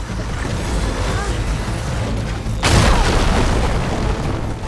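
Machine enemy opening fire on the player in Horizon Forbidden West: Burning Shores, heard as a steady rumbling roar that erupts into a louder, broad blast partway through, with no talk over it.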